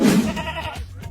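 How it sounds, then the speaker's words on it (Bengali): A goat gives a single short, close bleat that fades out within about a second. "আমার ছাগলের ডাক আসছে"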